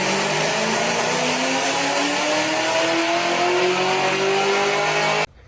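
A 680-horsepower Chevrolet Camaro ZL1 revs hard on a dynamometer, its engine note climbing steadily in one long loud pull for about five seconds before cutting off abruptly.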